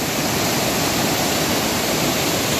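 Rushing floodwater roars steadily through Montreat, a dense, unbroken wash of turbulent water noise that stays loud and close throughout with no voices.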